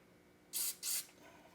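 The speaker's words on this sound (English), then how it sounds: "Spraying that all out." Two short, loud hisses of aerosol cleaner sprayed through a Honda XR100R motorcycle carburetor jet, close up, with a brief gap between bursts and quiet around them.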